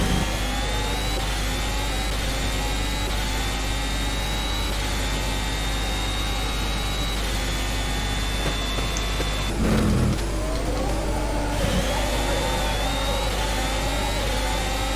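A virtual F1 car in rFactor at Bahrain accelerates down the main straight, a steady high-pitched engine whine climbing gradually with a brief rough burst partway through, continuous and loud.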